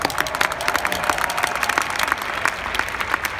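Steady applause from a large conference audience, dense overlapping claps sustained evenly throughout at a consistent loudness, with no voices rising above it.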